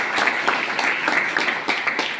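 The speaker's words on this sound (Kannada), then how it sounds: "ಜೋರಾದ ಚಪ್ಪಾಳೆ ತಟ್ಟಬೇಕು." An audience at a stage comedy event breaks into loud, dense applause, many hands clapping together in a sustained burst close to the microphone that carries through the whole stretch without fading.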